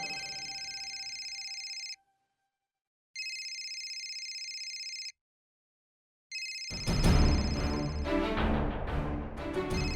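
A landline telephone rings in bursts inside a home, two long electronic rings separated by silence, then the ringing continues faintly under a loud swell of dramatic music.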